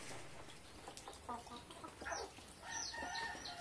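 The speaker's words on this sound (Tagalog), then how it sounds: "Yung manok natin, oh." Chickens cluck quietly nearby, several short overlapping calls over a soft, continuous outdoor background.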